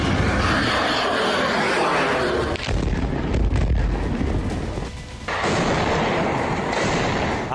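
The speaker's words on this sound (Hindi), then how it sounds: "सटीक हमले से यहां जबरदस्त धमाके हुए और पूरा इलाका थर्रा उठा।" Heavy booming blasts from missile strikes on the Al-Harir military base in Erbil, Iraq, several loud explosions rolling one into the next with rumbling aftershocks, and no clear talk over them.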